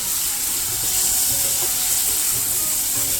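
Ridge gourd cooks in oil in a kadai, giving a steady, close sizzle of frying with faint stirring scrapes throughout and no talking.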